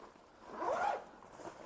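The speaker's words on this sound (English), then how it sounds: "What I really like about these is the zips up the side" A short, quiet zipper pull on the side zip of Rab waterproof trousers, a single soft rasp lasting under a second, heard on its own.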